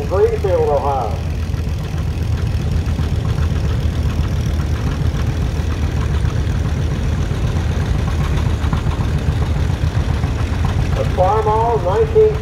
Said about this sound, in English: And here we have a McCormick Series W9, 1952, driven by Ben Keller from Greenfield, Ohio.